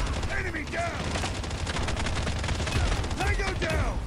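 Rapid bursts of automatic gunfire in the Call of Duty Mobile video game, dense and continuous at close range, with someone talking over the shooting.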